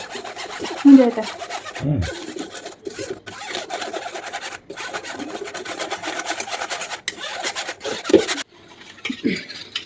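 Cocoa powder and flour being sifted through a sieve into a bowl for a chocolate cake, a close, continuous rasping and scraping with brief pauses and a few soft knocks.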